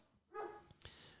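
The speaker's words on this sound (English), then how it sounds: "if you hear the dogs, I'm sorry" Dogs barking outside during a live home interview: one short yelping bark followed by a sharper second bark, moderately loud and somewhat distant, over a quiet room.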